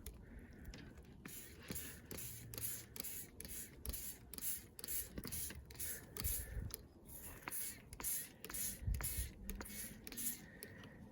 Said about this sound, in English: I think I got that one sprayed pretty well